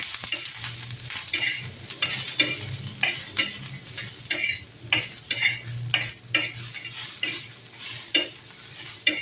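Grated coconut roasts with garlic and ginger in a pan, a low sizzle broken by repeated rhythmic scrapes and stirs of a spatula, close and clear with no talk.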